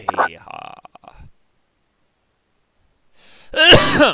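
One abrupt, loud sneeze bursts out at the end, following a short stretch of quiet speech and a long silent pause.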